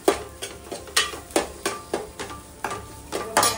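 Garam masala frying in a pan, with a stirring spoon scraping through it in a steady rhythm of soft clatters over a low sizzle, close and alone.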